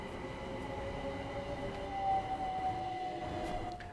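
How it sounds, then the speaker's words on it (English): A train in Train Sim World 5 on London Overground's Mildmay Line rumbles past in the opposite direction, a steady rolling drone with a faint rising tone, heard from inside the cab without talk. "Oh, there is another train coming the other way."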